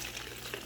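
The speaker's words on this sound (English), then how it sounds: "and I just pour it in" Liquid poured through a funnel into a salon spray bottle, a short close splashing trickle without speech.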